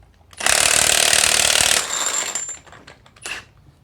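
A loud, harsh Milwaukee power tool buzzes continuously for over a second while separating a CV axle joint, then winds down into rattling and a few short bursts before fading.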